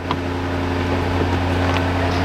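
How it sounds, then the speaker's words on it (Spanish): A steady low engine idle from a cold Jaguar F-Type R-Dynamic P450 convertible's noisy exhaust, with a strong, even hum and faint rattling, continuous and fairly loud throughout. "ahorita está en frío, hace mucho ruido el escape"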